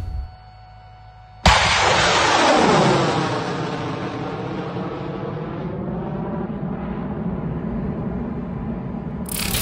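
Ukrainian MLRS-70 rocket artillery fires with a sudden loud blast after a second of quiet, then a long roaring, crackling rumble that slowly fades but keeps rolling to the end.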